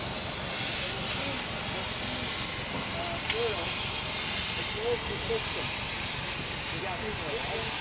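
Steady broadband steam hiss from steam traction engines at a steam threshing festival runs throughout, loud and continuous, with faint machinery rumble and a few brief murmurs in the background.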